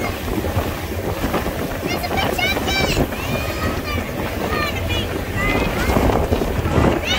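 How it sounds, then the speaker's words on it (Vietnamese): A ferry speeds across Galveston Bay, its engine and rushing water forming a loud continuous roar buffeted by strong wind on the microphone, with voices talking over it. "Chiếc tàu này chạy rất là lẹ nha cả nhà."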